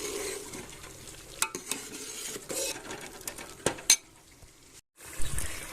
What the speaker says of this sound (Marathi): त्याला सारखं हलवत राहायचं खाली डागून नाही द्यायचं